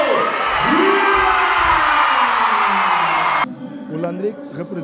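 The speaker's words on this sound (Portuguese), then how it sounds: "Eu queria uma salva de palmas bem grande para Miguel Lima" A large crowd at a big live show in a cinema hall cheers and applauds loudly and continuously, with whoops and shouts mixed in, before the roar drops off suddenly into quieter room sound.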